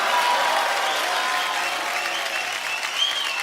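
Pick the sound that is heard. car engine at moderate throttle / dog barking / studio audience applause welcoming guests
studio audience applause welcoming guests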